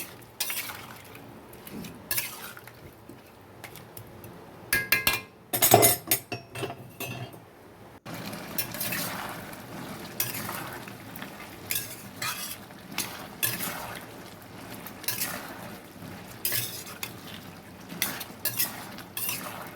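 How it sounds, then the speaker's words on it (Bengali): Spices with ginger and cumin being stirred and sautéed with a little water in a pan, a spoon clinking and scraping against the metal in a steady, close rhythm while a soft sizzle runs underneath. "তখন এটা ভালো করে কষছি"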